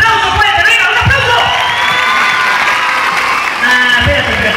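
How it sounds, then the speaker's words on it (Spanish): A crowd applauds and cheers at a municipal event in Chalco, a steady dense clapping with scattered whoops and children's shouts, loud and close throughout. "¡Venga, un aplauso!"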